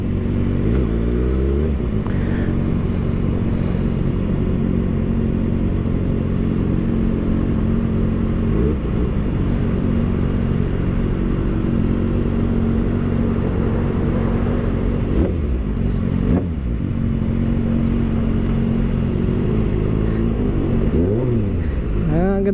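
A 2020 Kawasaki ZX6R with an inline engine revs its exhaust in traffic, the rising and falling engine tone loud and close, with other vehicles rumbling around it.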